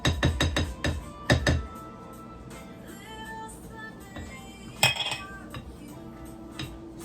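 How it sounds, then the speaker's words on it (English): A spoon stirs rice bread batter with olive oil in a bowl: a quick run of loud clinks against the bowl at first, then quieter scraping and swirling, with one more sharp knock later on. "I have to stir it to make sure everything is in the mixture appropriately"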